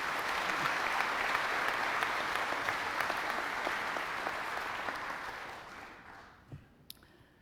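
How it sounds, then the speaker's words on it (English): Audience applause at an annual member meeting of a cooperative, a steady wash of clapping from a large crowd that holds for several seconds and then tapers off, with a few last claps near the end. "Give them all a hand clap."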